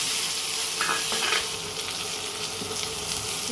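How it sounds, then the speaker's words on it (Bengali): Chopped onion frying in hot oil with a tempering of five-spice seeds and dried and green chillies, for a mourala fish fennel curry; a steady close sizzle with a brief stir, no voices. "এবার এই যে পেঁয়াজ কুচি করে রেখেছিলাম, এবার এই পেঁয়াজটা দিয়ে দেব।"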